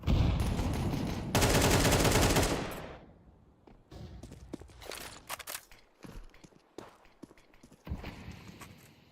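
Gunfire from a P250 pistol in a Counter-Strike match crackles in a dense burst, then trails off into scattered sharp shots and clicks among quieter footsteps and game sounds. The burst is loud at first and the later shots are sparse and farther off.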